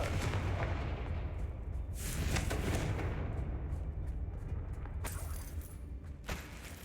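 Repeated Confringo blasting-spell explosions in Hogwarts Legacy, a loud sustained rumbling barrage with sharper bursts near the start, middle and end over a dense low-end roar.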